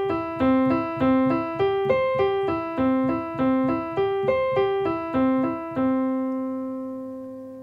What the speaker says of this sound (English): And what you should play is an arpeggiation that sounds like this.